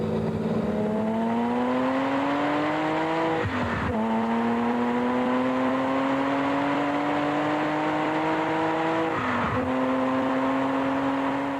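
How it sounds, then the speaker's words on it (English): A sports car driven at high speed on public roads by a factory test driver, heard from inside as the engine climbs steadily through two long gears with brief shift breaks, loud and continuous. "We do not advise anyone to drive at these speeds on public roads."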